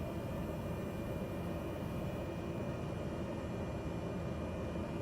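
A Cessna's engine drones steadily and loudly in Microsoft Flight Simulator 2020, a constant broadband roar with no clear rise in pitch and no voices.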